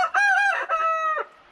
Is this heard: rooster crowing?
yes